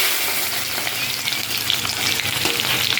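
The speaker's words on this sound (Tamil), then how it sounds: "இப்போ இதில் வெங்காயம் போடுறேன்" Onions hit hot oil in a pan for tomato rasam and fry with a loud, steady, dense sizzle that runs unbroken for about three seconds, with no voices.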